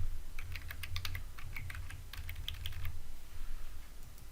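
Rapid, steady typing on a computer keyboard while entering a password, close and clear clicks over a low background hum, no talking.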